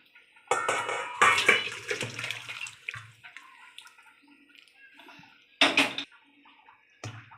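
Fish and potato curry is poured out of a pan in two wet, sloshing bursts with clinks of cookware, close by, separated by a long quiet stretch and followed by a short final splash.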